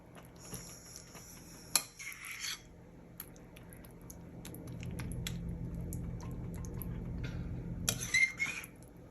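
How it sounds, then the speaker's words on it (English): A spoon scrapes and dollops a moist chicken mixture onto a casserole, giving soft wet squishes and a few sharp clinks of utensil against dish, quiet and close with no voices. "Just spoon it on there and get it as even as you can."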